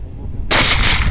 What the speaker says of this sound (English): It gets shot and the rest take off running.